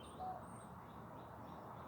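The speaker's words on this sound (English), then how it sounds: "those two robins right there. Wow, that's beautiful." Two robins chirp softly outdoors, giving a few faint, high tweets and short calls over a quiet background hum.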